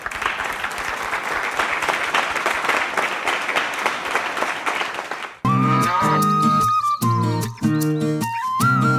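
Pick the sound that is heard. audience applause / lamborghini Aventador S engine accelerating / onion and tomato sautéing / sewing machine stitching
audience applause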